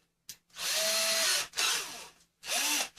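A cordless drill whirs in three short bursts, close by, drilling pilot holes, with brief pauses between each run.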